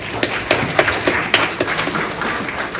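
An audience claps together in a sustained burst of applause at a youth skills awards ceremony, with a few sharper claps standing out from the steady patter.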